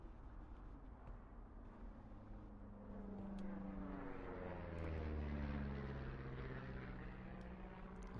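A propeller airplane drones overhead in the video game Firewatch, a steady low rumble that swells and peaks midway then eases off, alone without talk.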